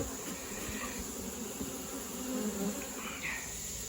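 Honeybees from a backyard hive started from a caught swarm buzz steadily and fairly close outdoors, a continuous hum with a few louder passes as individual bees fly near.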